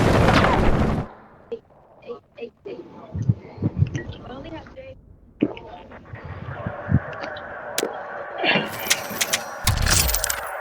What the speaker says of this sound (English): Oh, hombre, pinche grenade.